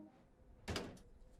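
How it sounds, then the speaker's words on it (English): A locomotive cab door swings shut in Train Sim World 2, one quick solid thud with a short rattling tail, heard alone at moderate distance over a low ambient hum. "Shut the door."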